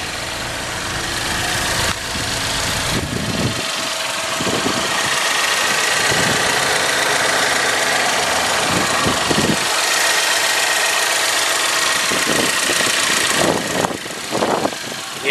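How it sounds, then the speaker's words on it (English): The engine of a 2013 GMC Terrain Denali AWD with a four-cylinder idles steadily at close range, a loud continuous hum with faint knocking and occasional handling noises near the end. "the engine's running right now, so you can hear how well the engine sounds"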